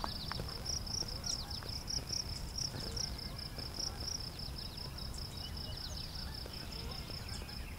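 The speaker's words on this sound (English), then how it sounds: "Lots of crickets here too." Crickets chirp steadily in a meadow at the south end of Beverly Swamp, a continuous high pulsing trill with faint birdsong mixed in over low ambient rumble.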